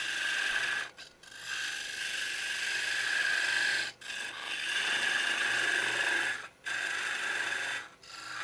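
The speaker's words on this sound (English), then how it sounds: "Just go back and sand just that little edge." Someone sands the small edge of a wooden piece by hand, producing a steady rasping scrape. Continuous strokes are broken by four brief pauses, close and fairly quiet, with no talk.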